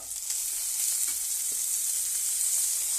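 Carrots and other vegetables fry in a pan for vangibath, a steady, close, bright sizzling hiss that continues evenly throughout with no talking.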